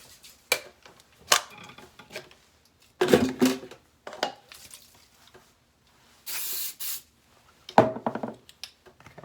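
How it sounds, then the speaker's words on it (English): A can of cooking pan spray is sprayed onto utensils in a single sustained hiss lasting about a second, set among scattered clatter and scraping noises from kitchen work. "I like to spray my utensils, whatever you're gonna use to scoop the cookies out"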